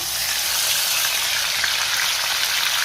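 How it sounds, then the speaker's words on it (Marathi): Ground masala paste sizzles loudly and steadily as it is sautéed in hot oil with garlic for a fish curry. The frying is close and continuous throughout, with no talk. "वाटण आपल्याला तेल सुटेपर्यंत चांगलं परतून घ्यायचंय"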